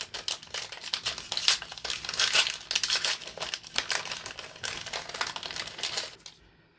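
Paper crinkling and tearing as action figure parts are unwrapped, a close, busy series of crisp rustles and crumples lasting several seconds before stopping.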